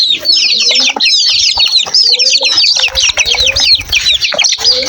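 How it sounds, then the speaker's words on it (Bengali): A group of young chicken chicks peeps and chirps rapidly and nonstop, loud and close, with overlapping high calls. "আপনি দেখতে পাচ্ছেন ও যে একটা মুরগির বাচ্চা"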